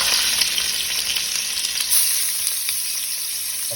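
Onion fries in hot oil with bay leaf, cloves, cardamom and cinnamon, a close and steady bright sizzle that holds evenly throughout, with faint stirring and no voices.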